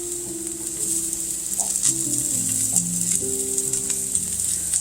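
Thinly sliced garlic sizzles in olive oil with softened onions for an eggplant pasta, a steady close frying hiss under faint background music tones.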